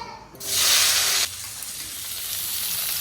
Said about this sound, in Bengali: আর সঙ্গে আলু বরবটি করাই একটু ভাজবো